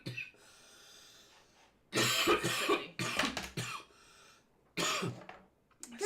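A person coughing hard after smoking weed, with several loud, harsh bursts broken by short gaps and throat-clearing rasps, close to the microphone and with no talking.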